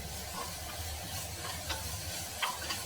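Chopped onions fry in a pan over raised flame while being stirred, producing a faint, steady sizzle broken by a few soft scraping and clicking strokes of the spoon.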